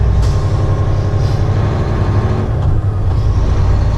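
A heavy haul truck pulls out of the Love's truck stop in Clayton, Indiana, its engine a loud, steady low rumble throughout with faint hissing and road noise mixed in.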